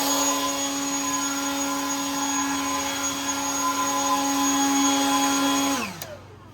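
A loud, steady motorized blower whine with a strong droning hum runs continuously, then winds down and cuts off near the end.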